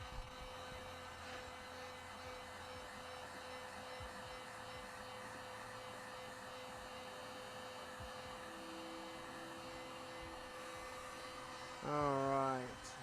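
A heat gun or hair dryer blows hot air over an airbrushed 3D-printed Darth Vader can cozy, giving a steady whirring hum throughout with a brief louder, warbling blast near the end.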